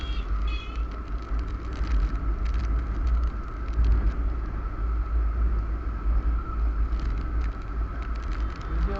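Car driving slowly along a highway in light rain, a steady low road rumble and tire hiss with soft patter of raindrops throughout, no talking.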